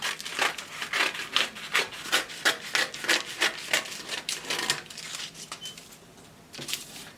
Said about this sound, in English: So I'm cutting the dart now.